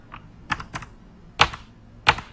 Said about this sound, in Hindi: कीबोर्ड